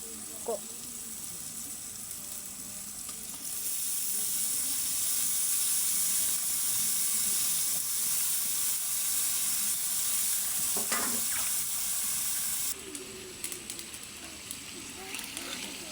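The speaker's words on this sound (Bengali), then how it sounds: "একটুখানি জল দিয়ে ভালো করে মশলাটা ভেজে নেব" Spice masala frying with a little water in a pan while paneer is being cooked, a steady hiss that swells louder midway, with occasional stirring clicks and a brief voice speaking near the end.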